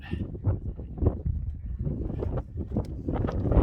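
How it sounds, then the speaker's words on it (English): Strong, gusty wind buffets the microphone in a steady low roar, rising and falling continuously throughout, on Mount Lafayette in the White Mountains of New Hampshire. "It's just too windy."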